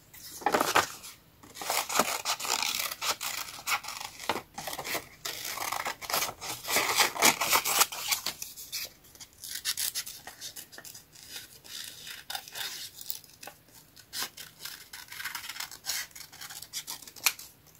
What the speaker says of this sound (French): Là, je vais découper des petites citrouilles.